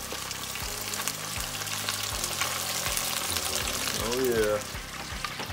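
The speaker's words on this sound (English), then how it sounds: "Kimchi's throwing the crappie in the pan." Crappie fish sizzles and crackles steadily in a hot frying pan, close and continuous, with a few scraping clatters and a brief bubbling burst; a voice speaks briefly.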